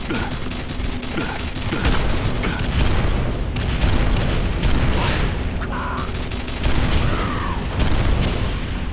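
Rocket launcher blasts in the video game Quake 4, loud deep booming rumble with rattling mechanical clatter, sustained and heavy throughout.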